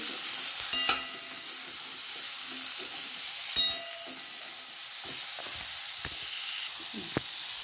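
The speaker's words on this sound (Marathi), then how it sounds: "आता हे 2 मिनटंपर्यंत तर छान परतवून घ्यायचं, म्हणजे कसं आपले जे मसाले आहेत तिखट हळद हे जरा तेलामध्ये छानपैकी होतात" Spices such as chilli powder and turmeric, with salt, being stirred and sautéed in hot oil in a pan while cooking amla murabba: a steady soft sizzle with scraping stir clicks and a few sharper knocks.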